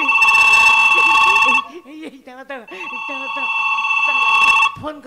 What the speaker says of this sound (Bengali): ফোন করেছে